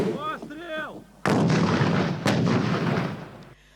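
Two heavy blasts from an M72 anti-tank rocket launcher boom one after another, each a sharp broadband crack with a rumbling tail, following a short stretch of whining tones.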